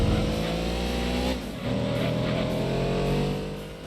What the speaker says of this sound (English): that new exhaust sounds better than whatever bee the Cougar ate